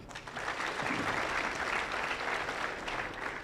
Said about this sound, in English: I hope that clap resonates into your ears